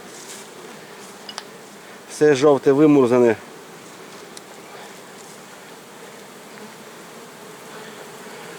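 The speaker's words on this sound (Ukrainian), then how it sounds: "А тепер і видно, як бджола працює." A constant low buzzing of many honeybees at an apiary hums throughout, steady and close, while a person speaks briefly near the middle.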